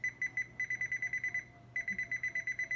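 Kitchen oven timer alarm sounding while oxtails roast, with rapid bursts of short, loud, bright beeps in groups, a brief pause, then another run of beeps, with no talking.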